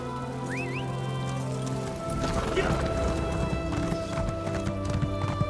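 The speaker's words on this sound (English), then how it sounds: "Getting on my plain horse, not a plain dog, but this horse is alright." Rhythmic hoofbeats of a galloping horse in the video game The Elder Scrolls Online begin partway through, steady and close, over a constant synthetic background hum, with a brief whinny-like chirp early on.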